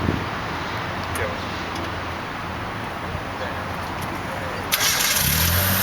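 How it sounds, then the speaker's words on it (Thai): A car engine turns over and catches near the end, its idle rumbling steadily after a quiet stretch of low background noise. "ติดเครื่องยนต์เรียบร้อย"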